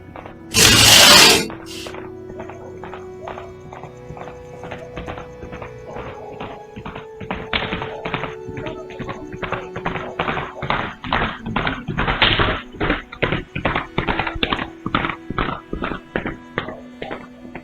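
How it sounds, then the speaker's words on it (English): Rapid, rhythmic thudding like galloping hooves grows gradually louder and denser, following a brief loud crash at the start. "unsettling sounds akin to a horse galloping cut through the night"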